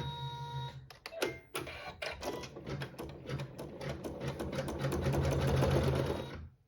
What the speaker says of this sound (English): And then using a neutral thread, we'll sew our seam.